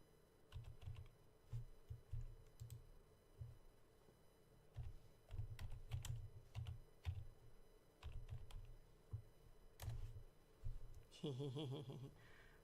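Clacking computer keyboard keys typed in rapid bursts with short pauses, close and fairly quiet, with a brief louder tonal noise near the end.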